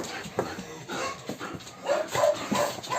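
Shelter dogs bark, yip and whimper in short irregular bursts, moderately close with a busy background. A little human voice mixes in.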